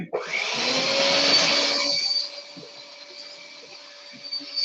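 A small electric hand mixer whirs loudly for a pie filling, a high buzzing drone that cuts off after about two seconds, leaving only faint kitchen clatter.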